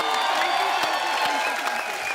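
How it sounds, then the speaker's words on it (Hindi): Studio audience at a comedy talk show clapping and cheering for a guest, a steady roar of applause that carries on throughout, with a voice faintly underneath. "फराह मैम के लिए जोरदार तालियां।"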